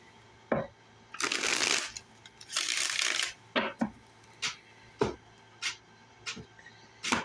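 Tarot cards are shuffled and handled up close, with two longer riffling bursts followed by a series of single sharp slaps and taps as cards are set down, quiet and without speech.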